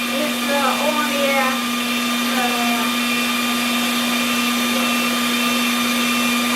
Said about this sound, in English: let us stop the air compressor working